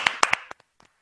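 A handful of quick, sharp hand claps, close and dry, with a few softer taps trailing off into silence.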